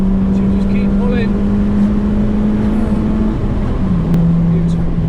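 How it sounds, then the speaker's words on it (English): A tuned 190 bhp Ford Fiesta ST500 accelerating hard in second gear, a loud steady engine drone heard from inside the car that drops in pitch briefly near the end. "Second gear, foot down hard, feel the cams kicking."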